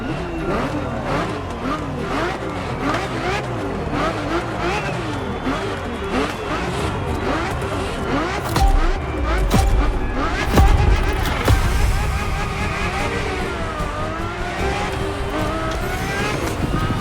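Ferrari F50 engine in The Crew Motorfest, a continuous high revving wail rising and falling through gear changes, with a narrator speaking over the steady car sound throughout.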